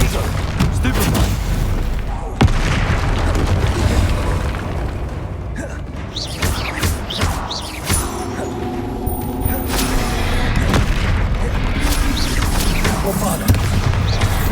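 Repeated heavy booms and blasts from the Bombarda explosion spell in Hogwarts Legacy, loud and dense amid constant game combat noise, with a voice talking over parts of it.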